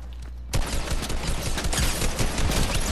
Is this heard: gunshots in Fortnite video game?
yes